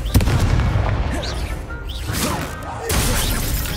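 Confringo spells burst in the Hogwarts Legacy video game as a rapid series of fiery explosions and crackling shatters, loud and close, with a fresh blast near the end.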